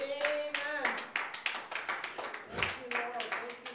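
Church congregation clapping hands in worship, a rhythmic run of sharp, fairly even claps heard close up, with a voice speaking over part of it.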